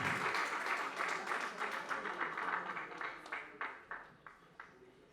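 Applause for honorees at a tribute event: a warm burst of crowd clapping that thins out, ending in a few distinct, spaced individual claps as it fades.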